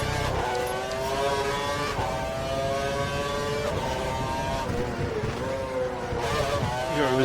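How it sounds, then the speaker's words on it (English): Formula 1 race car engine at full revs during the 2012 Canadian Grand Prix, a loud steady high-pitched scream with shifting tones as cars race closely. "We think the car behind is running on full revs."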